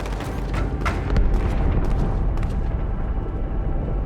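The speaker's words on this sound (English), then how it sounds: "That explosion came from inside the Athens." A deep rumbling blast from an explosion inside a large ship in Halo 2, followed by several sharp crackling impacts and a long low roar that gradually fades.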